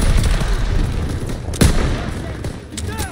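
Gunfire and explosions in the video game Call of Duty WW2 campaign, a dense rumbling battle soundscape with a sharp near shot and scattered distant reports under faint voices.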